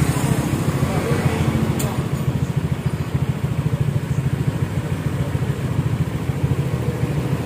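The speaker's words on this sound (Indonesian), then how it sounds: "hasil yang ditimbulkan dari Vario yang sudah kita bobok dan ganti leher suara, tidak ngeblar ya." A Honda Vario scooter with a modified, bored-out exhaust and a fitted silencer idles close by, giving a steady low, even putter that holds throughout.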